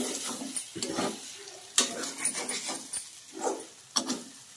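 Egg fry being stirred in a pan, with repeated close scraping and shuffling strokes over a soft sizzle, irregular in rhythm and fairly loud.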